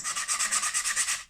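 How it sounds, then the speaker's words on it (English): Quick, even back-and-forth strokes of sandpaper hand-sanding the painted edges of a wooden circular craft blank, close up, about a dozen rasping passes in a steady rhythm. "I'm just going to give it a sand at the edges."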